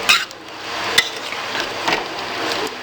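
Pumpkin and meat stirred in a pot with a ladle, soft scraping and a couple of sharp metal knocks over a low frying hiss, close and moderate.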